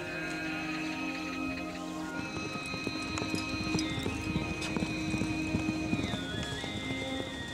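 Racing horses clip-clop steadily on hard ground, hoofbeats close and continuous, with a whinny or neigh rising over the trotting and a faint patter like light rain in the background.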